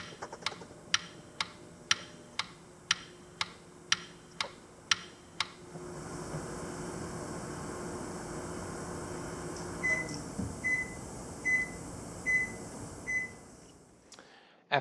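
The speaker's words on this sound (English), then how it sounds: "put this in my microwave for 8 minutes on high" A microwave oven set on high. It starts with a run of evenly spaced button beeps, then settles into a low steady hum and whir, and a series of softer repeating tones follows near the end.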